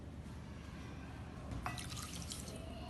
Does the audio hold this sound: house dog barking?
no